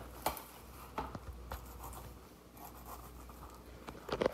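Knife cutting into a pineapple, faint scratchy slicing and tapping strokes, quiet and close with a few sharper scrapes near the end.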